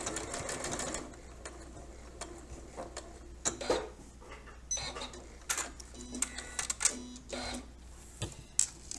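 Sewing machine stitching fabric at a 5/8 seam allowance with a back stitch, heard as close bursts of rapid mechanical whirring and ticking that start, stop and restart, with quiet gaps between runs and no talk.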